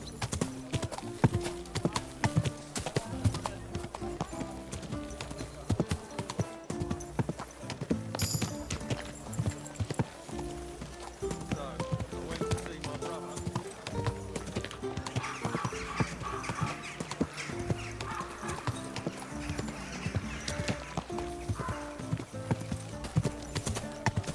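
Horse hooves clip-clopping in the medieval video game Kingdom Come: Deliverance II, a steady walking rhythm of hoofbeats under a bed of game music, with a brief whinny.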